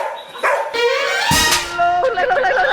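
A dog barks and yips in quick, loud bursts close by, mixed with whiny, howl-like cries and a voice speaking over part of it.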